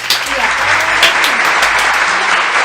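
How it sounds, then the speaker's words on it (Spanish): A group claps for Josefa during a children's Bible class, brisk close applause that holds steady throughout, with a few voices mixed in. "Un aplauso para la Josefa."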